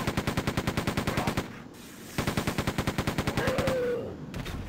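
Rapid machine-gun bursts from the Quake 2 video game, two long runs of evenly spaced, loud shots separated by a short pause, with a faint tonal game sound near the end.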